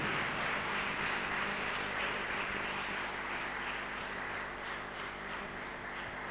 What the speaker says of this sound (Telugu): చప్పట్లు కొట్టి స్తుతించండి.